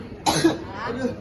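A short, sharp cough bursts out close by, followed by a softer throaty follow-up.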